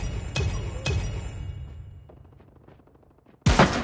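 XPR-50 sniper rifle shots ring out in Call of Duty Mobile, two sharp reports with fading tails, then a quieter stretch and another loud blast near the end.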